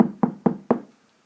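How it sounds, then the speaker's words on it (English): Three firm knocks on a door, evenly spaced and close, each a dull wooden thud, followed by silence. "We need to knock on the door."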